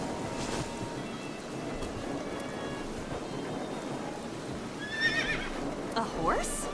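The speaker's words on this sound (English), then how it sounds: "A horse?" A horse in the video game AI: The Somnium Files whinnies twice near the end, a rising, wavering call over a low rushing ambient bed.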